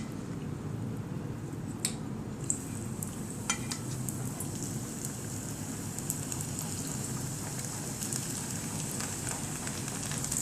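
Spring rolls deep-frying in oil heated to 170 degrees, a steady dense sizzle and bubbling hiss with occasional sharp crackles and pops, continuous and close, with no talking.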